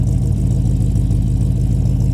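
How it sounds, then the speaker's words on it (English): A 1973 Ford Gran Torino Sport rumbles through its dual exhaust, a loud, steady, deep idle heard close up with no talking. "Dual exhaust sounds good."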